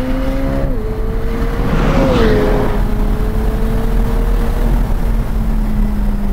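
A McLaren 765LT Spider accelerates flat out in third gear, a loud, steady high-revving engine note climbing continuously throughout, close and dominant with road and wind roar beneath.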